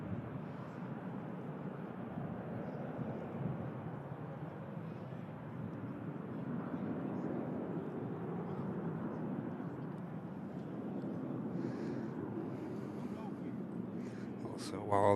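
A Boeing 737 climbs out from Manchester Airport, a moderate, steady jet rumble lasting the whole stretch and rising slightly toward the end, with talk present alongside it.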